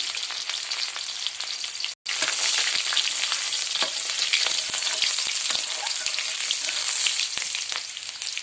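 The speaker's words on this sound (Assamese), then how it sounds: "এতিয়া পিয়াজখিনি আমি ভালদৰে ভাজি কৰি লম।" Continuous sizzle and crackle of chopped onions frying in oil in a wok, with occasional stirring scrapes and a momentary break near the start.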